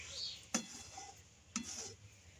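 Roasted sesame seeds are stirred into hot cooked jaggery in a pan to make til naru. A spoon knocks the pan in three sharp clicks about a second apart over a soft, quiet background.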